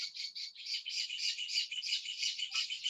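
Pet birds chirping in a room, a steady chatter of high, rapid tweets and trills running throughout, moderately close and fairly soft, with no voices.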